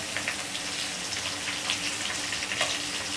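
Dried red chillies frying in hot oil for lemon rice, a steady close crackling sizzle with small pops throughout.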